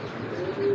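A big green-necked pigeon cooing in a loft, a soft low coo under steady background noise, brief and close.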